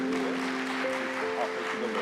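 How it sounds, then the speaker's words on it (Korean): A church congregation applauds during a Sunday worship service after a child's dedication, giving brief, steady clapping over a faint sustained tone. "박수라고 해주세요"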